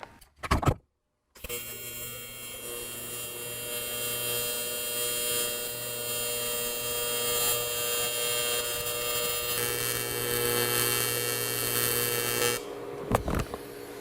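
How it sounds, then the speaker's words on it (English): Welding a joint on a curvy seat: a steady, continuous buzzing crackle with electrical hum runs for about eleven seconds after a brief start, then stops. "So I'm ready to weld."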